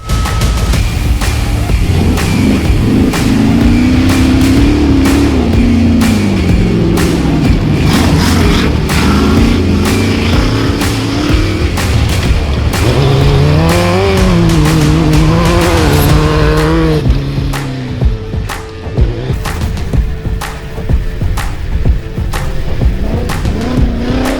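Extreme four-wheel drive Nissan Patrol racing hard on a dusty track, engine loud and close with rising and falling revs through gear changes, a steady roar that drops briefly near the end before returning.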